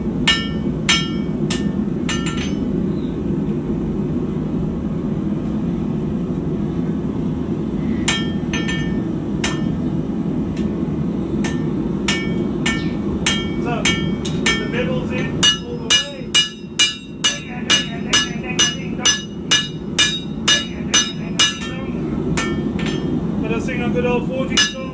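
A hammer strikes metal while forging a Criollo, sharp ringing blows coming in spaced runs, then a faster steady rhythm later, over a constant low roar of a forge blower.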